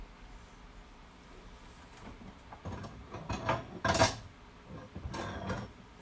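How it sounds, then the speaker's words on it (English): A microwave-safe bowl is taken out in a kitchen with a few clinks and clatters of dishes, quiet rustling at first and then several sharp knocks and rattles close by, with no talking. "I gotta get a microwave safe bowl first"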